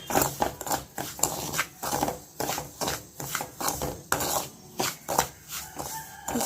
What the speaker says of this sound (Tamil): இப்போ ரவா நல்லா ரோஸ்ட் ஆகிட்டு இருக்கு.